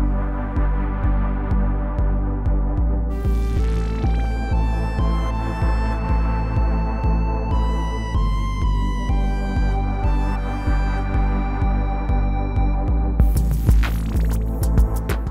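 A looping electronic beat on a Roland SH-4d groovebox with a sustained synth pad and pulsing bass, steady and loud, with bright bursts layered in near the end.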